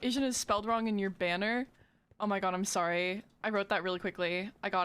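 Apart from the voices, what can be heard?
No distinct noise like a dog, phone or traffic.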